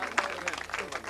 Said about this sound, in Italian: intanto un grosso applauso a questi nuovi volontari